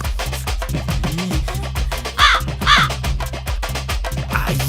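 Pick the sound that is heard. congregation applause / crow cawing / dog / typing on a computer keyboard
crow cawing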